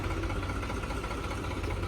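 Tractor engine idling steadily while backing a trolley on a farm, a close, continuous low rumbling drone with even vibration and no break.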